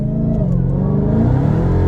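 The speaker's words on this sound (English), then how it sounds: "see the tires right now are busting loose. That's a total tires lost traction" Dodge Charger Hellcat Redeye Wide Body accelerating hard as its tires break loose and lose traction, a loud, continuous close-up engine roar with steady rumble through the whole moment.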